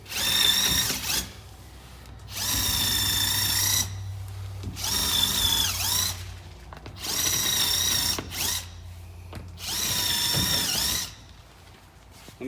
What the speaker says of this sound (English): I'm gonna come in here and drill a couple potholes real quick.